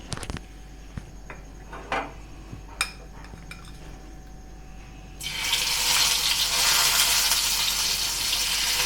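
Marinated paneer pieces hit hot oil in a pan on a medium flame for paneer tikka masala: a few quiet clinks at first, then a loud, steady, broadband sizzle that starts abruptly and keeps going.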